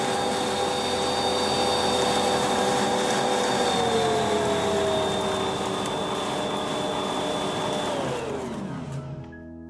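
A Bosch stand mixer motor whirs steadily with a bright tonal whine, its pitch dropping in two steps as the speed is lowered, then winding down near the end; loud and close, with no talk.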